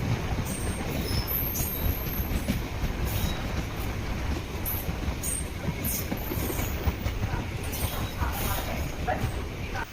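The Mahal Superfast Express from Madurai to Tambaram runs along the rails with a continuous loud rumble, rattling wagons and intermittent high wheel squeals, heard from on board or close by.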